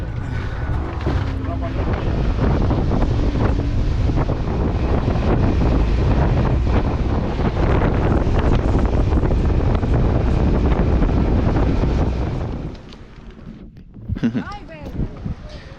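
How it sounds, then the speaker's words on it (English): A small motorboat engine drones loudly under heavy wind rumble for about twelve seconds on a ride to Cayo Levantado, Dominican Republic, then cuts out, leaving quieter noise and brief voices. "It was a quick little boat ride, a quick little lancha ride."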